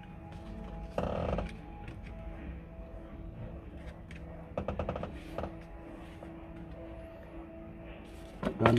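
A flat screwdriver pries at the outer door handle clip of a Toyota Avanza, giving a few sharp metallic clicks and rattles spread over a quiet background.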